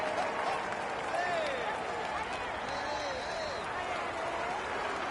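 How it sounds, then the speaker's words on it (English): A crowd at a Tour de France individual time trial cheers and applauds a passing cyclist, a steady dense wash of clapping and shouts, with whistles rising over it, loud and continuous. "Come on, let's give him a cheer."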